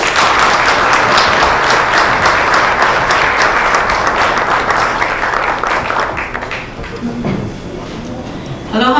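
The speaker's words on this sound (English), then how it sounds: "give her a very warm round of applause" An audience at a storytelling event applauds warmly in a dense, sustained wash of clapping that gradually thins and fades, giving way to a voice near the end.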